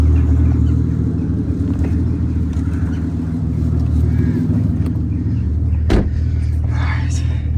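An engine-swapped Aston Martin DB9 runs with a steady, deep, close idle rumble, and one sharp knock near the end.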